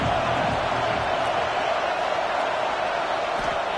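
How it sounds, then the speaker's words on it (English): Football stadium crowd at an Oklahoma game producing a steady, dense roar that holds at constant loudness throughout, with no distinct voices standing out. "This crowd ready to make its presence known."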